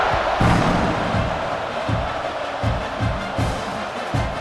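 A stadium crowd in EA Sports College Football 26 roars steadily before a kickoff, with rhythmic low thumps pulsing through the loud, sustained noise.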